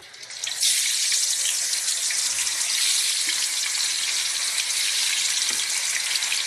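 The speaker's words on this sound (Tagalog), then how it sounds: "tayo ay magpiprito ng tokwa o tofu" Tofu frying in a pan, a steady loud hiss and crackle of hot oil that starts abruptly and holds evenly to the end.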